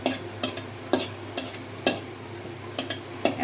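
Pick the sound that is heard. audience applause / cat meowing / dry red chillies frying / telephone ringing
dry red chillies frying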